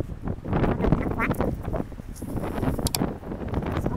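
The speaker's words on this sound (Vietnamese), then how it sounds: "trời gió mạnh lắm anh ạ, Kiệt Đình" Strong wind buffets the microphone outdoors near a bullring in Almería, Spain, making a continuous loud low rumble for the whole stretch.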